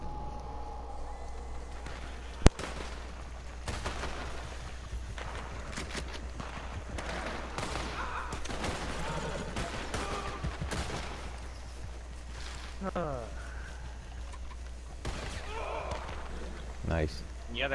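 In Red Dead Redemption 2, gunfire cracks in scattered bursts, some repeater and rifle shots sharp and close, others faint and distant, over a constant low hum while players talk.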